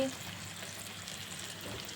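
A tempering for gongura chutney sizzles steadily in hot oil, a close, even crackle and hiss that stays quiet and continuous throughout.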